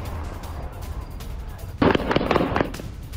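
Rapid cracking bursts of gunfire during fighting in Hebron in the West Bank, a dense cluster of sharp reports breaking out after a quiet background stretch, fairly close and loud.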